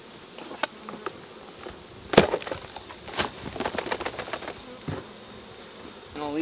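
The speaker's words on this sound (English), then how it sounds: "So, I'm gonna shake the rest of these bees on this." Honey bees hum and buzz softly around an open hive as a frame is shaken, with several sharp knocks and wooden clatters punctuating the buzzing.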